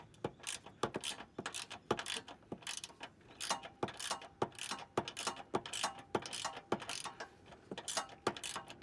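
A ratchet wrench clicks rapidly while removing a bolt, sharp close ticks in quick irregular bursts running continuously, fairly quiet, with no talking.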